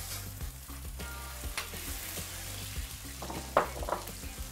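Onion stir-frying in a pan for Pad Thai, a steady close sizzle with low clattering and scraping from stirring, and a couple of sharper pops near the end.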